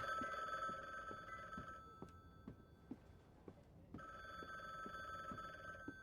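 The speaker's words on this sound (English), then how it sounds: "Just gonna ignore the phone call, honestly." A telephone bell rings in The Bookwalker: Thief Of Tales video game, sounding as a steady electronic trill that stops for about two seconds and then starts again, heard over quiet footsteps and soft knocking.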